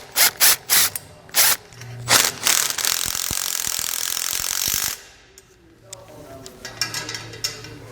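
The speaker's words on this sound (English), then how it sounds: "And then use a 14 millimeter to tighten it up." A 14 mm ratchet wrench tightens a nut on a utility load bar kit, several quick loud ratcheting clicks followed by a longer run of continuous clicking, then quieter rattles.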